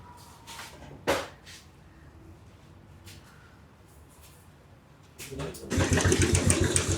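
Scattered mechanical clicks in a quiet space, then a motorcycle engine with a cam slip fault starts running with a rapid, rhythmic ticking clatter.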